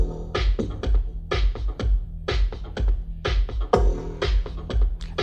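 A snare drum sample played live on an Elektron Octatrack cracks through a looping drum pattern, sharp bright hits over deep thumps in a steady rhythm, close and loud with no voices.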